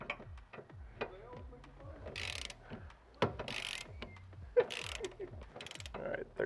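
Ratcheting torque wrench tightening subframe brace bolts on a Nissan 350Z, a close series of quick mechanical clicks and ratchet bursts in a garage, with some talking nearby.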